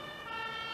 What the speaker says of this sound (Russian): где-то еще вон визжат пожарные.